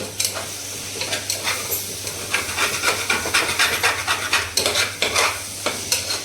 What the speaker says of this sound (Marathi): आपण आता तांदूळ परतूया आणि मग मसाले टाकूया।